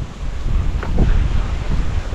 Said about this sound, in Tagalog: Si Negs, ang lakas ng hangin!